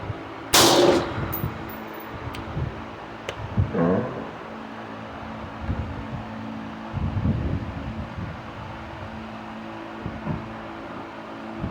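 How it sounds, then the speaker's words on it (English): A single sharp gunshot rings out loudly at an outdoor shooting range, followed by a fainter second report and quieter clanks and rustling, with no talking. "I'm going to shoot one more shot."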